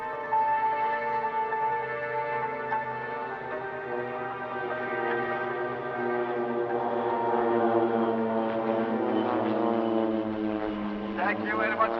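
Pilatus PC-7 turboprop trainers flying a display at the RAF Cosford Air Show, a steady droning propeller hum with rising and falling tones as they pass, under continuous announcer talk.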